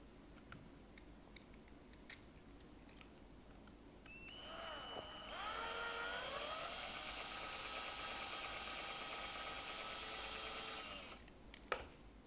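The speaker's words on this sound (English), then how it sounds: "So before I drill out the rivets, I like to make a nice pilot hole." A small drill bores pilot holes into the rivets of a die-cast Hot Wheels Toyota Supra toy car, whining steadily for about seven seconds after a few faint ticks, then stopping with a sharp click.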